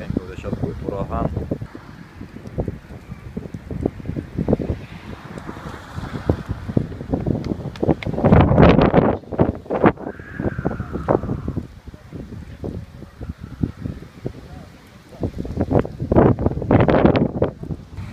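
Gusting wind buffets the microphone as the weather suddenly turns stormy at a camp, rising and falling in loud bursts while a person talks intermittently over it.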